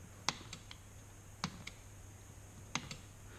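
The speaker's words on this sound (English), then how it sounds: "you can still hear that little time delay between the clicking of the actual switch to the firing of the relay inside" A GE Z-Wave wall switch clicks faintly three times at even intervals, and each sharp click of the switch is followed closely by the softer tick of its internal relay firing, with no talking.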